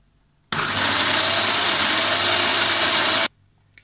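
Food processor pureeing an unpeeled lemon and orange for lemonade, roaring loud and steady for about three seconds before cutting off abruptly.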